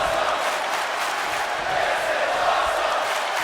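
Steady roar of a wrestling arena crowd cheering in the WWE 2K25 video game, a dense, loud, continuous wash of noise with no clear breaks.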